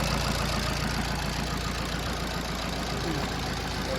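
A car engine idles steadily and smoothly, a constant low rumble with a faint rhythmic knock, close by with no voices.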